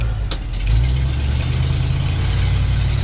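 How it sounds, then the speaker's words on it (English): An old Ford truck engine idles nearby with a low, steady rumble and a slightly rough knocking pulse, continuous throughout with no voices. "it kind of has your typical old Ford truck sound"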